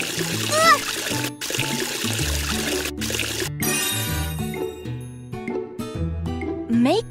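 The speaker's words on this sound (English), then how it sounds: "Help wash their faces with water." Water splashes and pours as toy vehicle faces are washed, light trickling and splatter heard under bright background music and a voice.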